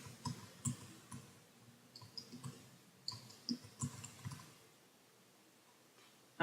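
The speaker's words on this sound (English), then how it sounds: "And I will type my name." Someone types a name on a computer keyboard, a quiet string of irregular key clicks that comes in short bursts with small pauses and ends with a sharper tap. It sounds close and soft, with no speech.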